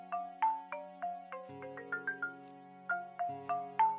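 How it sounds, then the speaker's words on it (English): A mobile phone rings in the video game Broken Sword 5 with a melodic electronic ringtone of plucked-sounding notes over a sustained synth backing, steady and fairly loud, with no voices. "Hold on, my phone."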